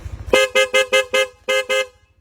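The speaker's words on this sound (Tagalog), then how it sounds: "Corsa po yung pinabil ni Sir na busina." An aftermarket Corsa horn fitted to a Yamaha Aerox V2.1 scooter sounds seven sharp, loud honks close by, in a quick pattern of five blasts, a short pause, then two more, over a low idling engine.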